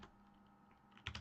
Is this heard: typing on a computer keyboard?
yes